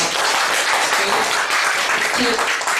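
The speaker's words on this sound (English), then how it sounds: "So can we give them a round of applause?" Loud, dense applause from an audience at a school homework debate, many hands clapping rapidly and continuously, close and filling the room.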